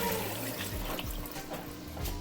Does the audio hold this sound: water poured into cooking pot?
yes